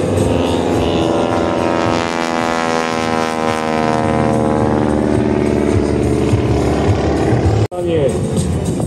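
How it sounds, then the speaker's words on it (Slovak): A propeller aircraft engine at the Košice air show drones steadily and loudly for the whole stretch, a constant near roar with a slowly shifting tone, briefly cut out near the end. "Takže započúvame sa do zvuku motora"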